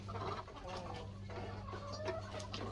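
Soft clucking from chickens inside a farm chicken coop, several brief calls over a steady low background hum, fairly close but quiet.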